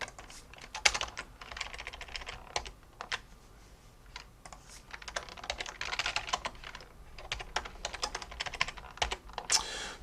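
Steady clicking of a computer keyboard while a search code is typed during a live coding session, irregular bursts of close, fairly quiet keystrokes with brief pauses and no talk.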